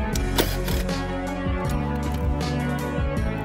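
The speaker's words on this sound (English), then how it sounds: "You simply take the bolt out, put the ring terminal on, and tighten it back up." A socket ratchet works a 10 mm bolt on a 2014-2015 Infiniti Q60, making rapid, close clicking that runs steadily throughout, with no talking.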